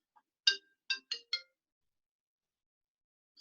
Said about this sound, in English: Sorry, my phone went off.